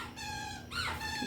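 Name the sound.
dogs playing with a squeaky toy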